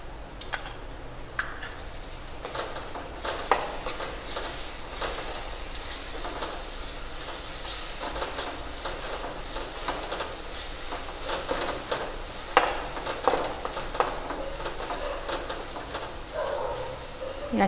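Ginger-garlic paste with chilli sizzles in hot oil among browned onions while pav bhaji cooks, giving a steady, moderately loud crackling hiss with scattered sharp pops throughout.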